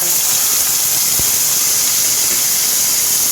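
Green chili, garlic and coriander leaf paste sizzles in hot oil with browned garlic, a loud, constant, close hissing fry that barely wavers, with one brief low knock partway through.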